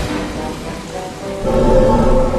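Thunderstorm in the video game Castle of Illusion: steady, loud rain hiss with a low rumble of thunder swelling near the end, brief and without any talking.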